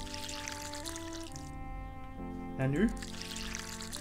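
A watering can pours water in the game Aka: a short splashy gush midway, set against a steady backdrop of game music, with someone speaking briefly nearby.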